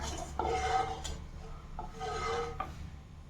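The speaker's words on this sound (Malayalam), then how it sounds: "ഞാനിത് അടപ്പത്ത് വെച്ചിട്ട് നന്നായിട്ട് ഇളക്കാൻ പോവുകയാണ് കേട്ടോ" A rice-water halwa mixture being stirred in a pan on the stove, with a few soft scraping strokes of a spoon against the pan over a low background hum, close and quiet.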